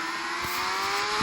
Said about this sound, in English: As the NTT data McLaren moving out of the pits.